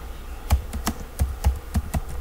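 Keys clack on a computer keyboard in a short burst of about eight crisp, close taps at an uneven rhythm, with no voices.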